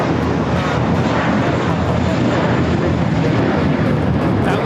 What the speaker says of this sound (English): That was American Airlines 2038 taking off to Dallas Fort Worth on the A321.